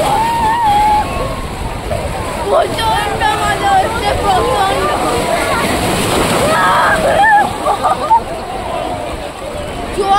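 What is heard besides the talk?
sea waves splashing at Digha beach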